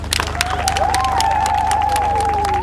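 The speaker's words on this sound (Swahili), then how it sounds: "Makofi mengi sana kwake." A crowd at a public rally in Mtwango, Njombe claps loudly and steadily. Ululating voices and whistles rise over the applause.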